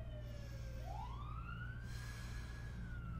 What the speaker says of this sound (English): as I send love to that siren right there